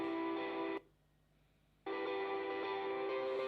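A sustained guitar lead line played through a Loomer reverb distortion pedal rings out with a bright held tone, drops away into near silence for about a second, then returns just as full.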